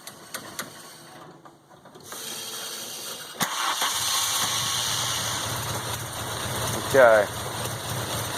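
A MK2 GTI converted to motorcycle carbs, running unchoked, catches and settles into a steady idle up close, with a brief rev and a few words of talk over it.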